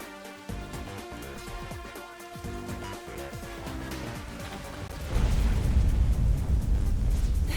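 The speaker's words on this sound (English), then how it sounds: "That explosion just now, where did it take place?" A video game explosion in Rain Code, a deep booming blast rising sharply about five seconds in over game music, loud and sustained with no talk.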